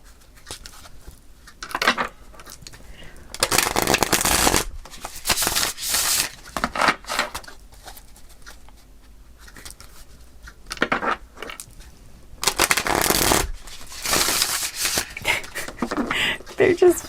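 Tarot cards being shuffled in bursts of crisp riffling and fluttering, several separate flurries with quiet pauses between them, while someone talks.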